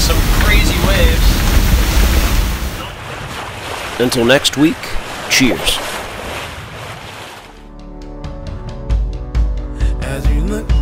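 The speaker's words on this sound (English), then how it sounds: "We're going about 8 knots, pounding into some crazy waves." A sailboat pounds into large waves in a 33 to 40 knot squall at about 8 knots, with heavy wind roar and crashing water in the first half, followed by quieter sea sounds and a spoken sign-off.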